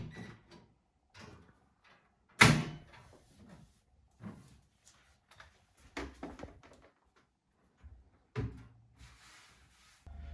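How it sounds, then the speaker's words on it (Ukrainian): Kitchen cabinet doors being put back in place and closed, several separate knocks and bumps spread out, with one sharp loud clack and quieter thuds, close and otherwise quiet. "Ставлю на місце шафи дверцята і все закриваю"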